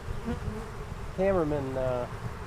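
Honeybees buzz close by at a hive in a steady droning hum, with a few louder, wavering passes as insects fly near.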